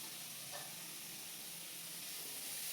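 Food fries in a pan during home cooking, a faint steady sizzle and hiss with a light stirring clink, no talking.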